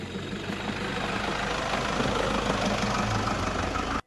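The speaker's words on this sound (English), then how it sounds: "It is an unbelievably effective engine for off-road driving." Rough, steady idle of a 2009 facelift off-road vehicle's engine, parked on a grade 4 climb, with a continuous low rumble and knocking texture, close and loud throughout, no talk.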